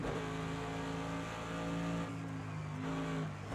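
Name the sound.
Mercedes AMG GT3 engine at Bathurst in video game Project Cars 2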